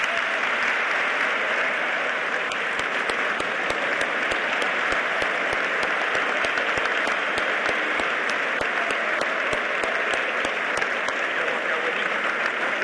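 Steady, sustained applause from a large audience at The Citadel for Secretary Pompeo, a dense, unbroken wash of clapping with sharper individual claps standing out, continuing without a break.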